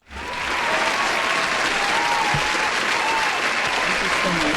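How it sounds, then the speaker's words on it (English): Audience applause for a guest on a studio talk program, a steady dense wash of clapping that swells quickly and holds loud for several seconds, with faint voices and cheers mixed underneath. "You deserve a round of applause."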